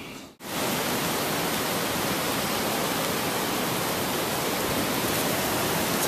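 Running water rushing steadily outdoors near a sketchy spot by a big tree, a dense, even hiss that starts after a brief dip and continues unbroken and alone.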